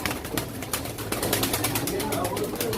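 Pigeons at a pigeon auction in Çorum, a dense crowd of birds cooing and fluttering nearby in an unbroken chorus, with voices mixed in.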